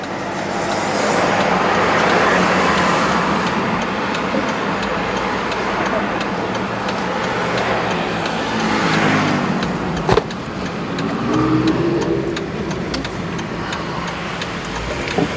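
Car driving on a residential street in Indian Lake, Hendersonville, with a continuous close engine and tire rumble, road noise rising and falling, and a couple of faint ticks.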